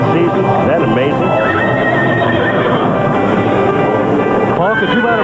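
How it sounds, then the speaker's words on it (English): A horse neighs in a loud, echoing stadium setting during an American football broadcast, the whinnies rising over a dense crowd roar with people talking throughout. "Watch the horse."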